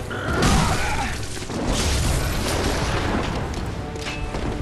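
Loud booming gunshot blasts with crackling noise, a couple of heavy hits in quick succession amid dense action sound during the Father Gascoigne boss fight in Bloodborne on PS4.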